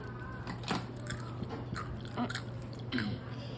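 Fried blue crab legs are crunched and chewed up close, with soft irregular bites and crackles at a low level over a faint background hum.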